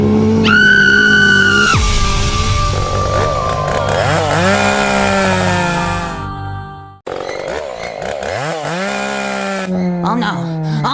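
A chainsaw revs loud and close, its whining engine pitch rising and falling in surges, with a short break before it starts again. Voices shout over it.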